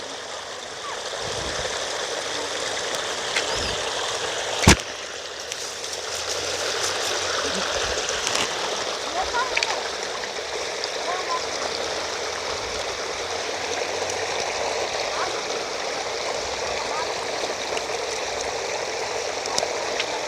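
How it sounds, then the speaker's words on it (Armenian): A stream flows steadily outdoors, its broad, even rush of water continuing for the whole stretch, with one sharp click partway through and faint scattered knocks underneath. "Ջրի ձայնն էլ ինչ հավեսին ա գալի"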